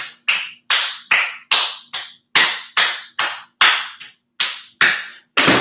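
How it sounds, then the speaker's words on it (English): Easy hand clapping during an ankle strength and flexibility workout, about thirteen sharp, loud claps in a steady, slightly uneven rhythm, close and alone with brief reverberant tails. "All right, some easy clapping."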